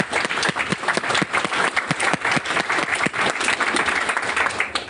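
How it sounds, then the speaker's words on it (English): Steady audience applause at an Austin Python meetup, with even, sustained clapping from a roomful of attendees, loud and consistent throughout with no voices over it. "so let's give them a round of applause as well."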